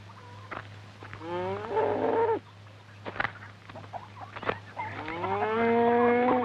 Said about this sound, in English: That is the bull. He is very dangerous.